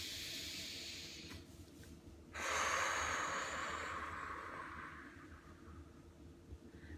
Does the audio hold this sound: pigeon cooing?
no